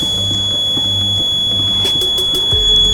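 A homemade water-level alarm sounding as water is added, giving a loud, continuous electronic beeping tone close by with a steady pitch.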